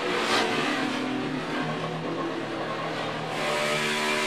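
A NASCAR race car at Dover Motor Speedway in 2013, running with a flat right front tire, roars in a loud, sustained engine drone with scraping noise and slight swells, heard without talk.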